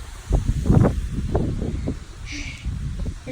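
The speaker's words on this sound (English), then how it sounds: "It's starting to get more windy, and it's just because there's like thunderstorms." Wind gusts outdoors ahead of thunderstorms, buffeting the microphone with a low, uneven rumble that swells and fades throughout, with no voices.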